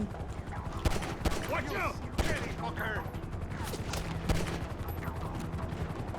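Gunfire in the video game Grand Theft Auto V comes as rapid bursts of sharp shots and repeated cracks, loud and close, while a person talks over them.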